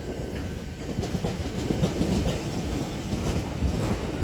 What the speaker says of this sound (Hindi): मतलब जैसे ये ट्रेन देख लो